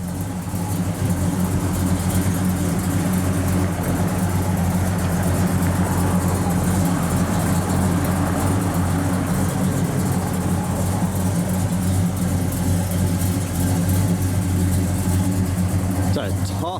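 A black 1970 Pontiac GTO with a 400 engine, mild cam and M21 Muncie 4-speed idles loudly through its exhaust, a deep steady rumble with occasional revs, close up and continuous.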